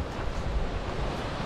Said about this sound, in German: aber dafür haben wir weitaus mehr Wind